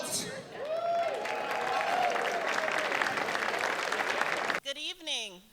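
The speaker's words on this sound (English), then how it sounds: "please join me in welcoming with a warm round of applause" A large audience at an evening gala claps steadily for about four and a half seconds, with whoops and cheers rising over the dense applause before it cuts off and a voice begins speaking.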